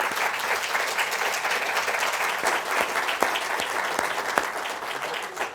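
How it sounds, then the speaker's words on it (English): An audience at an Arizona event on architect Arthur T. Brown applauds its panelists with sustained, dense clapping for over five seconds, steady throughout, with a few sharper individual claps standing out nearby. "Let's give a round of applause to our panelists"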